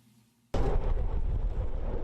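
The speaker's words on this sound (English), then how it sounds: "Explosions as dawn broke over Gaza." A sudden loud explosive blast from an airstrike on Gaza at dawn after near silence, followed by a sustained deep rumbling roar that fills the rest of the clip.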